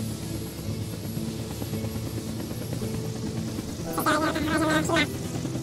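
A cartoon helicopter whirs steadily as it lifts off, its rotor buzz growing louder toward the end under a narrator's talk.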